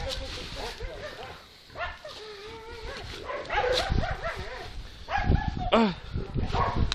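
Several hunting laika dogs bark and yelp excitedly in bursts at a wild boar, close by, with people's voices mixed in among the barking.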